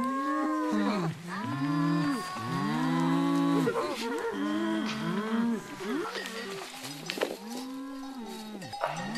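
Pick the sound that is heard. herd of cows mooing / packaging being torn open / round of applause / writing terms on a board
herd of cows mooing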